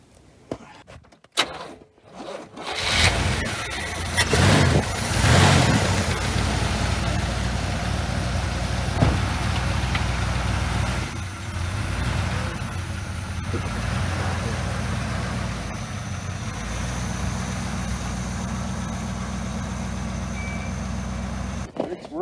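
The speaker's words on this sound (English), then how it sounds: "That battery, give it a boost," A car engine cranks and catches after a battery boost, then settles into a steady low idle that runs on, with brief talk and clatter near the start.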